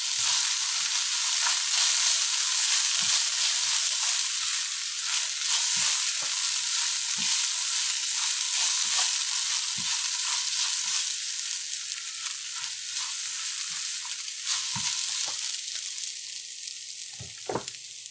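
Fried rice sizzling steadily in a hot pan as spice powder is mixed through, with scattered clicks and scrapes of the stirring utensil over a constant hiss and no voices.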